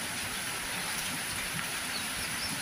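Heavy rain falls suddenly and steadily, a dense, loud hiss of downpour that fills every moment without pause and with no voices over it.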